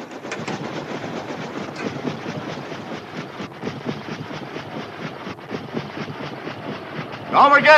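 A train rumbles past with steady rhythmic clatter, loud and close throughout, swelling louder in the final moments.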